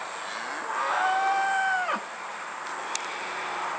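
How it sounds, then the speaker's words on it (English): A mother cow lets out one long, drawn-out moo close by on a farm where her young calf stands near her, with quiet outdoor background and no talking. "There's a little calf again and his mama."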